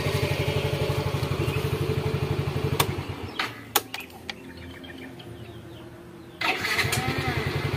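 A Yamaha Mio M3 scooter idles with a rapid, steady putter, goes quiet for a few seconds with a few clicks, then its engine starts easily and settles back into the same close, even idle.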